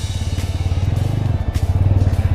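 A 2020 TVS Apache 200 4V motorcycle engine idles up close after being started, a loud, steady, rhythmic low thumping pulse with no speech over it.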